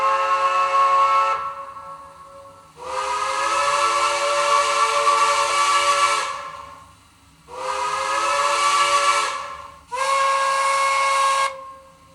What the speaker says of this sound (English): I just love the sound of these CD quality whistles